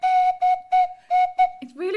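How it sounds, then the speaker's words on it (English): A Swanee whistle sounds a run of five short, steady, pure tones in an even rhythm, then a quick sliding note at the end, played up close and clear with no speech over it. "Grace, do you think you can do that on the Swanee whistle for us?"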